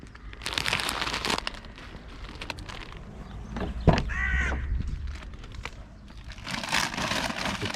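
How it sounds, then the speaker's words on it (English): Crows cawing over an open field, with several harsh calls around the middle, moderately distant, over rustling and scuffing noise nearby. "The crows are retaking their homeland."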